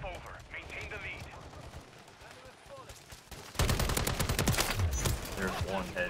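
Rapid gunfire from battle rifles in Call of Duty: Modern Warfare, loud bursts of repeated shots erupting midway and continuing to the end, with someone talking over quieter shooting beforehand.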